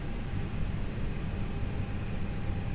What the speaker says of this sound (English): Probably can hear the air conditioning running now.